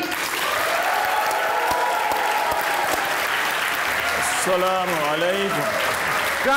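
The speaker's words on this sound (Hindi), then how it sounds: "आपकी भरपूर तालियों में" A studio audience at a poetry-themed talk show breaks into sustained loud applause to welcome a poet, clapping steadily throughout while a voice speaks over it near the end.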